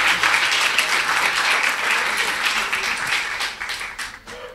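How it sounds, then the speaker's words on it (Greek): Audience applause rises from a crowd, full and continuous at first, then tapering off toward the end with scattered final claps. "Ένα χειροκρότημα, βεβαίως."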